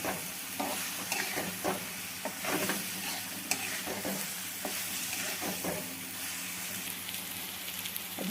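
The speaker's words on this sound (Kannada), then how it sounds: "ಈಗ ಇದಿಷ್ಟನ್ನು ಪೂರ್ತಿ ಕಲಿಸ್ಕೋಬೇಕು" Okra coated in gram flour sizzles steadily in a frying pan while it is stirred, with repeated scraping and stirring strokes over a constant close frying hiss.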